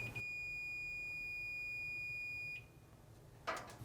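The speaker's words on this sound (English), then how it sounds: "If there is continuity, the meter will beep." A multimeter set to continuity beeps while its probes touch during testing of a Samsung dryer belt switch, giving one steady high-pitched tone for about two and a half seconds before cutting off, with a short handling rustle afterward.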